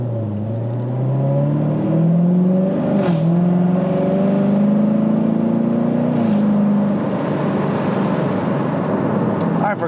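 A 2019 Chevrolet Corvette Z06 accelerates onto a road, its engine note close and loud, climbing in pitch with a brief shift near three seconds, holding a steady drone, then easing off toward the end.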